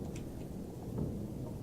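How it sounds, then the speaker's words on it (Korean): Thunder in a VHS-style video game rolls as a steady, low, rumbling wash through the whole stretch, moderately loud with no distinct claps. "아, 천둥 치지 마라. 무섭다."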